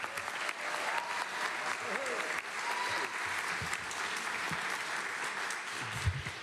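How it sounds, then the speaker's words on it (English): Sustained applause from an audience at a mayoral education announcement, steady broadband clapping at moderate volume throughout with faint voices mixed in. "Let's continue that loud round of applause"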